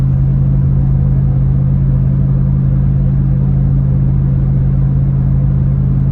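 Steady low exhaust drone from a Nissan Y62 Patrol fitted with a Pacemaker cat-back exhaust cruising at 100 km/h, a constant loud rumble with road noise inside the cabin and no change in pitch.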